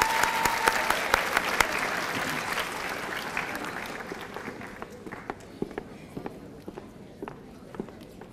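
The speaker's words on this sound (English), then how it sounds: "Let's give these students another round of applause." Steady applause from an audience at a high school senior awards ceremony fills the room, many hands clapping at once, gradually thinning toward the end with a few scattered louder claps.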